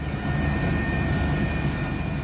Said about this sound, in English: Watch this plane try to land at London Heathrow while caught in crosswinds yesterday.